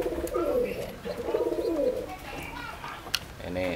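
Racing pigeons cooing close by, including a breeding male, with low rolling coos repeated in a soft rhythm over a few seconds, a brief sharp click near the end.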